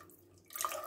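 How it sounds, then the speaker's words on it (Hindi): Water poured into a pan of paneer gravy during home cooking, a soft splashing and trickling that starts partway through, close and moderately quiet over a faint kitchen hum. "थोड़ा पानी डालिए और थोड़ा जितना आपको ग्रेवी चाहिए उस हिसाब से"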